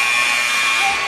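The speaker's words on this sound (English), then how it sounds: "that will sound the buzzer" A basketball game-ending buzzer sounds at a high school game, one loud continuous electronic tone holding steady for the whole moment, with arena noise faint beneath it.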